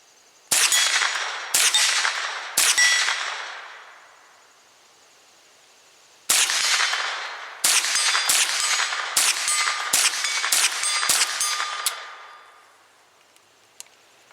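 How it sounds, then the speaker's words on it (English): Ruger 10/22 rifle plinking at a short-range target around 50 yards, a series of sharp, loud cracks: three spaced shots, a pause, then a faster string of about six more, each with a brief ringing tail. "we've got the Ruger 1022 today and we're doing a little bit of plinking short range"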